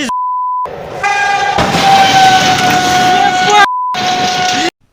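A train passes through a railway crossing where a car is stuck on the tracks, a loud, steady rumble with sustained horn-like tones, bracketed by short electronic beeps at the start and near the end.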